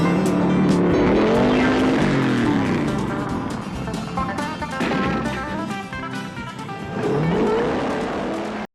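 In a Dukes of Hazzard chase scene, a car engine roars continuously with squealing tires and skidding as the car races and goes into a jump, layered under dramatic score music and loud throughout.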